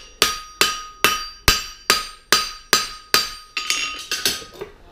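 A hammer forges a thin steel horseshoe bar with about eight evenly spaced, loud, ringing metallic blows, followed by a looser cluster of lighter taps.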